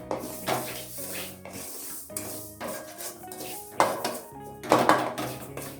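Roasted semolina is scraped and tipped from a metal pan onto a plate, giving steady scraping and clinking of metal utensils against cookware with a few louder clatters, close and without talk.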